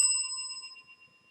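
A single bell ding strikes clearly and rings out, its bright tone decaying steadily over about a second with no other sound around it.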